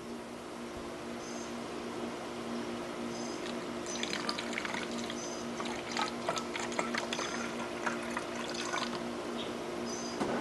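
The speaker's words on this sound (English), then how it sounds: "take this bottle, take some purified drinking water, get a little bit in there." Purified drinking water is poured into a bottle, a quiet trickling splash with bursts of bubbling and gurgling in the middle, close by over a faint steady hum.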